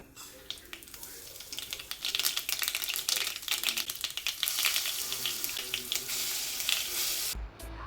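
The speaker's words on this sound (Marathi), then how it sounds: "एका कढईमध्ये अगदी दोन चमचे तेल घालून हिंग आणि मोहरीची चांगली फोडणी करायची" Asafoetida and mustard seeds temper in about two spoons of hot oil in a kadhai, making a dense, continuous crackling and popping sputter that stays loud throughout and then cuts off abruptly near the end.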